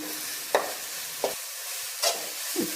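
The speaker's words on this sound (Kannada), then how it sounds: "ಸ್ವಲ್ಪ ಎಣ್ಣೆ ಒಗ್ಗರಣೆನಲ್ಲಿ ಫ್ರೈ ಮಾಡ್ಕೊಳ್ಬೇಕು ಮಸಾಲೆನ" Oil sizzles steadily as a spoon scrapes and stirs the spice masala a few times in the pan, fairly close, during tempering before horseradish is added.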